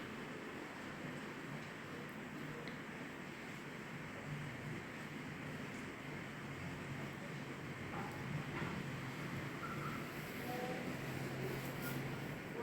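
A mixer grinder whirs steadily as it grinds grated coconut with a little water into a paste. The motor noise is continuous and fairly quiet, with no talking over it.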